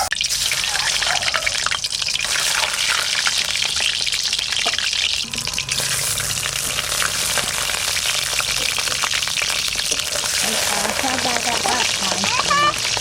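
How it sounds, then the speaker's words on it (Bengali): Eggs fry lightly in hot oil in a pan for egg korma, giving a loud, continuous crackle and sputter with wet popping, and faint voices underneath. "ডিমগুলো এই তেলের মধ্যেই ভেজে নি হালকা করে।"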